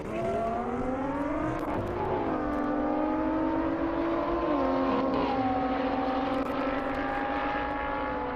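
An Audi R8 and a Nissan GT-R drag race down a half-mile airport runway, engines roaring loud and steady with rising, shifting tones as they pull away, no talking.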